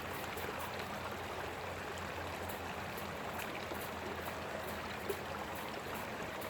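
Water flowing through a culvert in a ravine at a Colorado gold mining site, a steady broadband rush and trickle that continues evenly throughout, moderately close with no talk.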